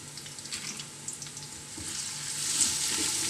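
Half a tablespoon of garlic and a quarter spoon of ginger frying in a pan for a chicken curry, a steady close sizzle and crackle that gets slightly louder toward the end, with no talk.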